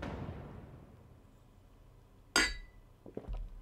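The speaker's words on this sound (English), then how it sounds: "Oops, clinking my glasses." A sharp glass clink rings out once in Pillars of Eternity 2: Deadfire, a bright ringing strike followed by a few quieter clinks and knocks, standing alone over a faint background.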